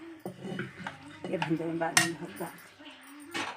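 A metal spoon stirs Telangana-style goat head curry in a cooking pot, scraping and clinking in close, irregular bursts of clatter with brief pauses between strokes.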